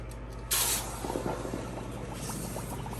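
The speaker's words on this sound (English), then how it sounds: "So we're ready to quench the tree of life here." Hot silver casting tree plunged into a water quench, bursting into a loud sudden hiss of steam that settles into a steady sizzle with light bubbling crackles, no voices.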